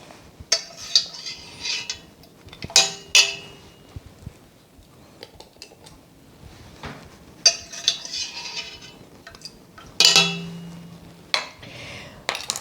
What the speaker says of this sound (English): And put the caps on.